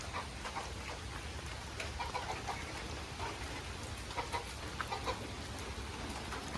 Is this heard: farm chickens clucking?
yes